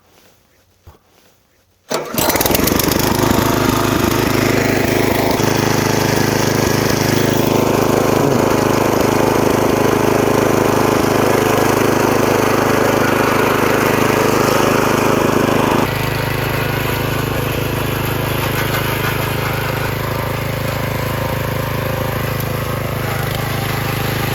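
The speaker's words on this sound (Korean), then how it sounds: "열림으로 놓고 시동을 걸어 보겠습니다" Hyundai Hanaro mini tiller petrol engine catching after a brief pull-start, then running loud and steady at a close distance, its pitch settling slightly lower partway through, with no talking.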